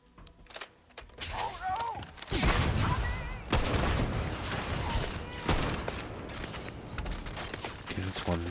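Gunfire from distant enemies and the player's weapon in the video game Starfield, a busy run of sharp shots and thuds under steady talking.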